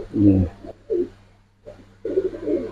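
Giribaz pigeons, a silver pair offered for sale, give several short, close, throaty coos in separate bursts with brief pauses between them.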